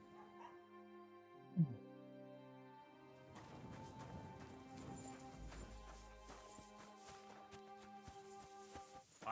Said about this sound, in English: Get out of here, Mutt. No one wants to hear your bark.